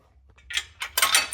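A ratchet wrench turning out bolts on a Jeep JL/JT front bumper, a short run of quick metallic clicks up close, growing louder over a second and a half, with no talking.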